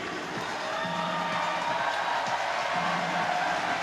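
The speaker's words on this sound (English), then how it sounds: "getting some reaction from the crowd as well" Spectators at the IFSC World Championships 2023 combined finals in Bern murmur and cheer softly as a steady wash of crowd noise, with no single loud outburst, while a climber rests on the wall.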